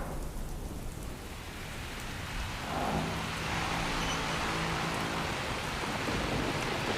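Heavy rain pours steadily and loudly on a flooded city highway in Ahmedabad, a dense roar that thickens partway through, with a low rumble beneath and no voices.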